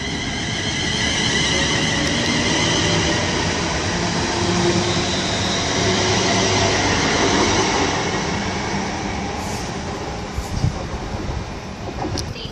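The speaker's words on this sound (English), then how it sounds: "Now departing is not the 1443, it's the 1446. Delay London Midland service to Birmingham New Street" A London Midland Class 350 electric train, unit 350-102, departs Birmingham International station toward Birmingham New Street with a loud, steady rolling rumble and wheel noise that eases slightly as it pulls away.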